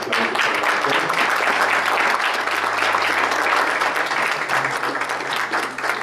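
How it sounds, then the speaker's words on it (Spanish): An audience at a legal conference on technology in oral justice claps for a doctor, a loud, sustained burst of many hands that stays even for the whole stretch, with a low hum beneath. "Les pido un aplauso para la doctora"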